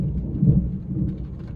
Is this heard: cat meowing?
no